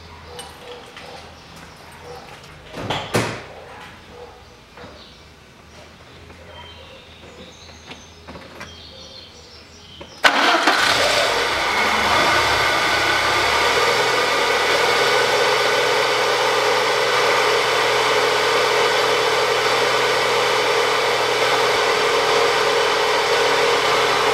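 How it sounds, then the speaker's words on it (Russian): A Lada VAZ 2110 with a 16-valve engine cranks briefly on its starter amid quiet background and a few knocks, then catches and settles into a loud, steady idle that carries on to the end. "Все, попробую еще раз завести. Посмотрим, как себя стартер будет вести."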